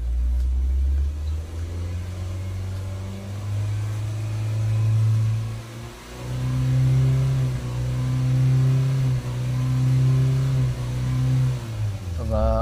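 A 2009 Honda Fit engine revs up to around 3000 rpm, its steady hum rising and falling in a sustained loud drone with a wavering pitch, heard up close with a brief beep at the end.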